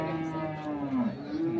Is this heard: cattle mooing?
yes